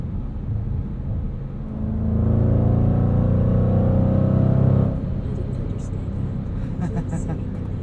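A 2021 Jaguar F-Pace SVR cruises at highway speed, its steady low engine and road rumble swelling louder for a few seconds before easing back, with a voice talking over the drive.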